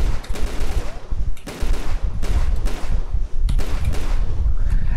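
Loud bursts of gunfire in the Tomb Raider video game, fired at an oxygen tank, come in three separate clusters of rapid shots, each followed by a brief pause.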